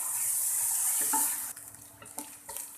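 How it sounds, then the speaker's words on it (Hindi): Onions fry in a pan for pizza sauce. A loud, steady sizzle fills the first half, then drops to softer frying with scattered stirring scrapes and clinks. "प्याज डालेंगे। इन्हें 1 मिनट के लिए फ्राई करेंगे।"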